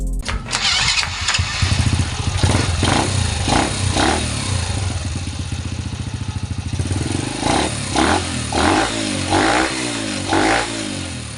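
A Honda Wave 100 motorcycle engine, ported and polished with a 53mm block and racing cams, cranks and catches, then runs loudly with rhythmic revving bursts, close by and alone.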